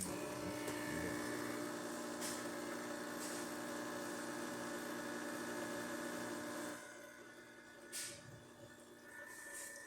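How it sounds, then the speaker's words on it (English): Pump of a Quick Mill Andrea Premium espresso machine, just serviced, running with a steady vibrating hum and whine that drops in level partway through, quiet and close, with no talking. "this is just to demonstrate that the pump works as expected"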